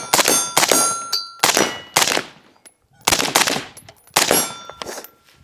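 A SIG MCX Spear rifle fitted with a SIG Hexium suppressor fires several shots in quick pairs and short strings, sharp muffled cracks with brief ringing tails, close and outdoors.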